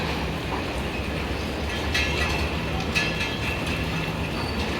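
The Hazara Express passenger train rolls past on the tracks with a steady rumble and rhythmic wheel clatter, a constant moderate-level roar with no voices.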